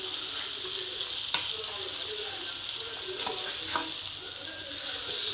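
Fish fries in a pan with a steady, dense sizzle close up, broken by a few sharp crackles and spatters, continuing alone without talk.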